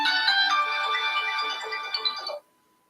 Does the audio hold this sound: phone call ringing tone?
yes